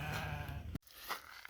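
A sheep on a village farm, among a flock just treated for worms, lets out a single close, wavering bleat that stops abruptly, followed by quiet with faint background sound.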